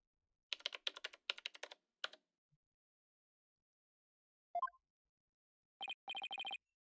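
Bursts of keyboard typing in the video game Apollo Justice: Ace Attorney Trilogy, quick clicky runs of keystrokes, faint and close, separated by short pauses and ending with a rapid final flurry.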